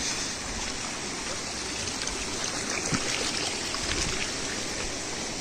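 A village river in Kokan, swollen after two or three days of rain, makes a steady, full rushing and gurgling flow that continues evenly throughout.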